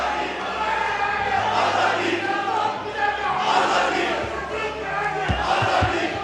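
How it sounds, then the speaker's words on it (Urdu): A dense crowd in a parliamentary session chants slogans loudly and continuously, a sustained roar of many voices with rhythmic shouting throughout. "نعرے بازی مت کریں"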